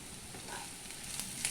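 Ginger and garlic paste fries with onions in a pan, giving a soft, steady sizzle with faint crackles and a brief stirring scrape, quiet and close.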